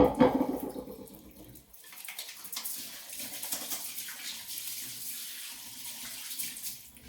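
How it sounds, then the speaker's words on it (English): A kitchen sink tap runs for washing hands, starting with a brief louder splash, then a fairly soft, steady stream of water with small splashes, no voices. "I'm just going to put this into the sink, get it out of the way, and wash my hands."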